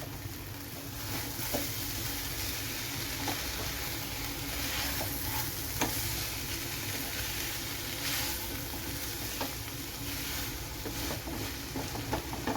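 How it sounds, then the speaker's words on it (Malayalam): Raw mango thoran being stirred in a pan, with a steady low sizzle under scattered scraping and clinking of a spoon against the pan, close and continuous. "നമുക്കൊന്ന് തുറക്കാം നമുക്കിതൊന്ന് നന്നായിട്ടൊന്ന് ഇളക്കിയിട്ട് കൊടുക്കാം"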